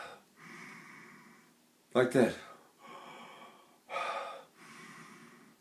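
Deliberate singer's breaths taken while shaping the throat, with a sharp gasping intake near the middle and a second strong breath later, mixed with a voice speaking close to the mic.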